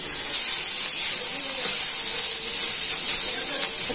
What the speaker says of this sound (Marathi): आता मी इथं कांदा भाजते।